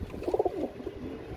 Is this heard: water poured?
no